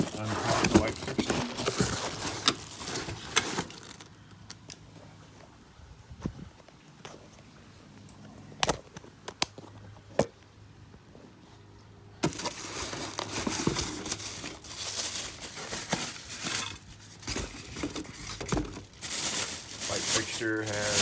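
A light fixture is pulled free of its plastic bag and cardboard packing, with intermittent crinkling, tearing and rustling, some bursts loud and close, mixed with someone speaking.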